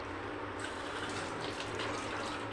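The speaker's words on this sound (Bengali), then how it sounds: "একটু জল দিয়ে দিলাম" Water pours steadily into a pot of oats khichuri on the stove, a continuous close gushing fill with no talk.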